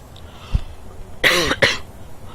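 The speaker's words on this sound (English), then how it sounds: "My coughing fit over." A few sharp coughs close to the microphone: a brief one, then two harsher bursts in quick succession, over a quiet background hum.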